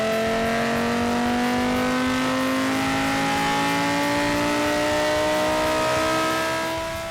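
Boosted Lamborghini engine on a dyno, turbocharged and pushing about 800 horsepower, holding one loud sustained roar whose pitch climbs smoothly as it revs hard the whole time, up close with no talking.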